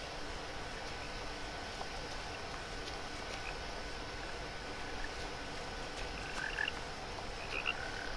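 Frogs croak in the video game What Remains of Edith Finch, a dense, steady chorus of ambient croaking with a few brighter calls near the end.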